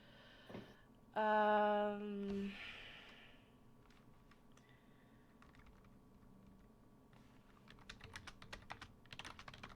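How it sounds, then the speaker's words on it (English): Quiet typing on a computer keyboard, a steady run of soft clicks in the background, briefly covered early on by a louder tonal sound and a sigh. "I'll type out whatever."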